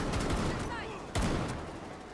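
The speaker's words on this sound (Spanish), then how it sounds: "Está pegando tiros de gente." Sharp gunshots in the Rainbow Six Siege beta crack in a quick burst, with a louder shot partway through, over faint background game sounds.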